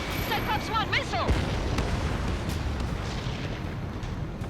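Missile explosion in the Ace Combat 7 video game, a heavy boom followed by a sustained rumbling roar, under radio chatter voices.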